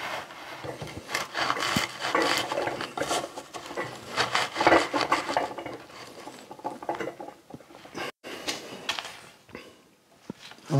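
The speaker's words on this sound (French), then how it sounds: "vous venez visser votre arbre dans le pot." A box bonsai, grown from a garden topiary, is twisted down into its pot: close, scratchy rubbing and gritty patter of roots and soil grinding against the container, in uneven bursts with brief pauses, with no talk over it.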